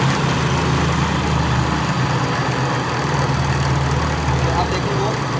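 Laboratory Francis turbine model running steadily at reduced rpm, giving a continuous low mechanical hum with a rushing water-like wash above it, loud and even throughout with no pauses.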